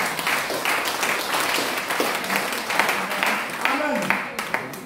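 Congregation in a church clapping and cheering in a steady broadband wash of applause, with voices calling out over it throughout.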